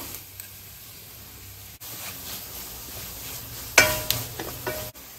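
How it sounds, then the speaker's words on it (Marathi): Grated cabbage and vegetables with chili sauce, tomato ketchup and soy sauce sizzle in a pan for manchow soup, a soft steady fry with stirring scrapes and a louder clatter near the end. "आता हे छान फ्राय करून घ्यायचं"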